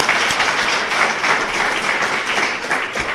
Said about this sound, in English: I'm going to clap for that.